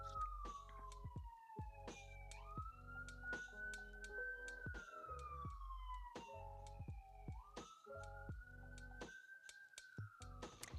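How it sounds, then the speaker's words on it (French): A police siren passing outside, its two-tone wail sweeping up and down in a slow repeating cycle, heard steadily for several seconds with faint ticking clicks nearby and no talk. "J'attends que la sirène ait fini de passer."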